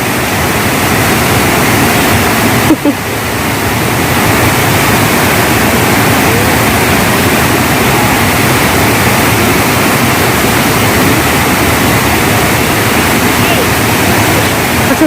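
A waterfall at Chennai Falls pours in a steady, dense roar of rushing water, loud and unbroken throughout, with a brief soft knock near the start.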